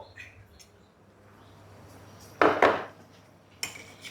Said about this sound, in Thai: ใส่เกลือลงไปครึ่งช้อนโต๊ะค่ะ